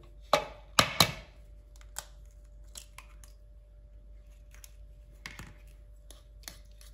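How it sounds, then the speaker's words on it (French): A fork mixes eggs and banana in a bowl for gluten-free pancake batter, giving a few sharp clinks at first, then lighter, scattered taps against a quiet background with no talk. "On continue de mélanger, toujours à la fourchette"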